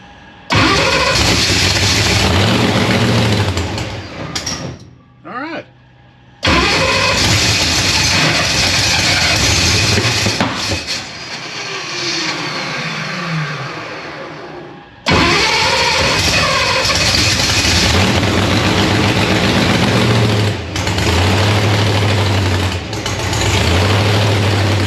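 A car engine that is cold after long air-conditioner use is cranked and catches, roaring loudly nearby. It drops out briefly, restarts and keeps running rough and loud for most of the stretch.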